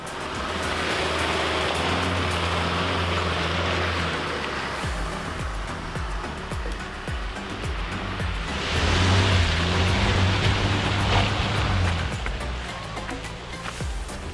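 A 4x4 climbing an off-road track at the Cotter near Canberra, its engine drone and tyre rumble loud and continuous, surging heavier partway through as the vehicle works up the slope.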